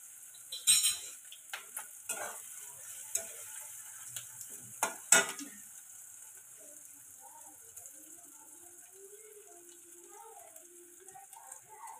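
Crushed garlic and ginger paste sauté in a pan for a poppy-seed dish. Sharp intermittent clatter and scraping of a stirring utensil fill the first half, then a faint, quiet hiss remains.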